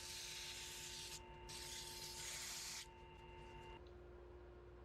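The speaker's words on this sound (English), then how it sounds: "pull out some 320 grit paper and just do some hand sanding" Steady scratchy rubbing of 320-grit sandpaper by hand over a wooden sphere, close by, in two long strokes, with a faint electrical hum underneath.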